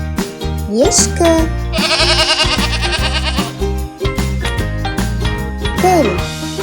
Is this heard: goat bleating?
yes